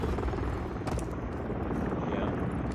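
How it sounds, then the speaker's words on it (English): A helicopter in a video game drones with a dense, continuous rotor and engine roar that stays loud and steady throughout, with voices talking over it. "Is that somebody's helicopter?"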